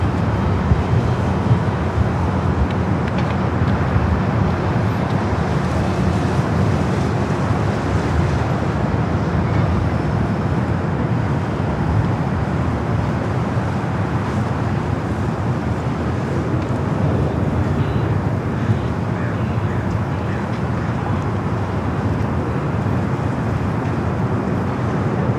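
A 23-year-old Delta Boeing 757-300 on flight 802 to Detroit at LAX gives off a loud, steady jet roar that holds unbroken for the whole stretch, with no talking.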